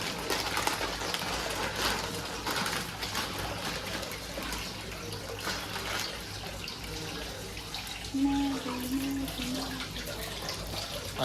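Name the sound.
washing eggs under running tap water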